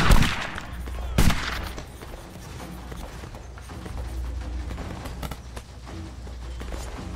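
Musket fire in a Napoleonic Wars battle game between Spain and the Kingdom of Italy: a couple of sharp nearby shots early, then scattered faint distant reports over a low battlefield rumble.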